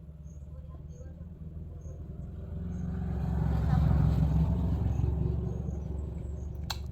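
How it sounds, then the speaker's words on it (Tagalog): Cars and motorcycles pass along a road near the sea, a steady low rumble that swells as one vehicle draws near and fades again, with faint chirps and talk in the background. "Maraming dumadaan na sasakyan guys na mga motorsiklo"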